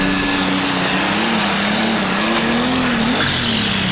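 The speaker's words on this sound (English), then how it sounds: "We're moving on into the red-eyed Under the Influence tractor." The Under the Influence pulling tractor at a pull at Alltech Arena in Lexington, Kentucky, its engine a loud, continuous roar with a wavering, surging pitch throughout, heard up close with no voices.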